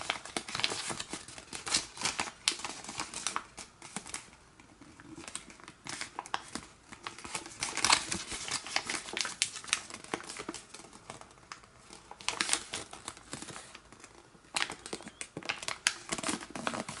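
Paper being folded into an origami cross bookmark, with close crinkling, creasing and rustling in irregular bursts, some quiet stretches between, no talking.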